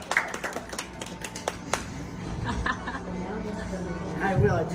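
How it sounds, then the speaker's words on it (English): A handful of scattered, uneven claps for a birthday girl pop out at a late-night live show, mixed with nearby chatter and talk rather than a full round of applause. "Now give this baby girl a big round of applause because it is her birthday."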